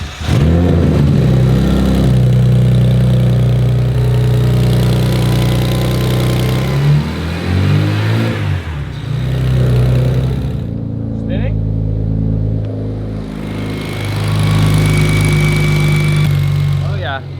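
Turbocharged BMW 335i with a single T51R turbo running on a cold start, a loud, steady low idle droning throughout with slight rises in pitch, people talking over it.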